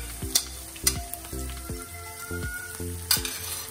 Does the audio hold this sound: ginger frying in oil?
yes